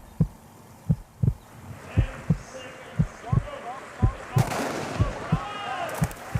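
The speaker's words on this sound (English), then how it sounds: "you can hear that heartbeat" Steady heartbeat thumps, about a dozen evenly spaced low pulses, played as a sound effect at a livestream of a Zwift Tri-Battle Royale triathlon in Allgäu, Bavaria, with a brief swell of background noise midway.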